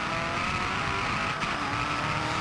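Racing car locking its brakes with tyres skidding, a sustained screeching squeal over loud engine noise, close and continuous with a brief sharper spike near the middle.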